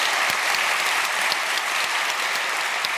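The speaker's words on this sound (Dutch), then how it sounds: "Maar natuurlijk vooral een hartelijk applaus voor Damian" An audience gives steady, dense applause after a psychiatrist's lecture, a continuous loud clatter of many hands clapping with no break across the whole stretch.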